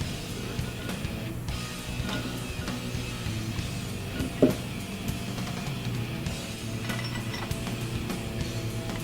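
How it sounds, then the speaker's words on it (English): A wrench torques cylinder head bolts on an engine during a build, giving steady mechanical ratcheting clicks and metallic creaks at close range, with one sharper knock partway through and no talking. "With the head bolts seated, we are torquing them in 3 steps."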